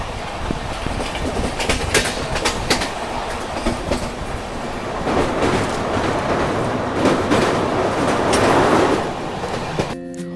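Passenger train rolling on rails between West Bengal and Bihar, a steady loud rumble with rhythmic clickety-clack of wheels over joints, swelling louder toward the end, with no talk.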